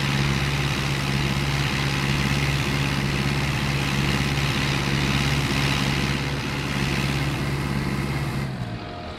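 A tractor engine labours in Farming Simulator 22 with a steady, loud droning hum that holds, then fades slightly at the end.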